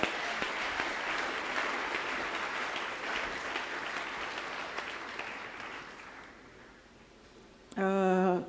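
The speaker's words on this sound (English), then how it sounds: "Clap for Jesus Christ." An audience breaks into sustained applause, with dense, steady clapping that slowly fades and thins out before a brief burst of another sound at the end.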